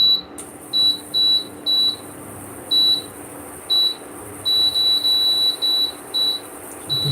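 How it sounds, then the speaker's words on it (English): A stove's high electronic beep sounds in a rapid series of short and longer tones at irregular intervals over faint background hum. "Pardon me as my stove will be making a bit of noise."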